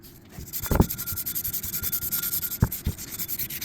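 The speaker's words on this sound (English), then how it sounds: "So I got 176. So I'll just sand it down a little bit." A part is rubbed with 176-grit sandpaper on a 1969 Land Cruiser FJ40, giving a rapid, even scratchy back-and-forth rasp at close range, with a few sharper knocks.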